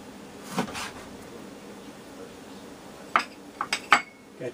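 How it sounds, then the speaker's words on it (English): Chef's knife clicks and taps against a cutting board while a ham hock is cut up, with a few sharp close knocks near the end over quiet kitchen background. "I like to cut up the ham hock."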